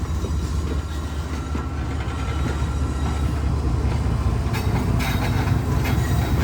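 Pakistan's Karachi Express, pulled by a powerful locomotive toward Lahore, rolls along with a steady loud rumble and rhythmic wheel clatter, close and continuous.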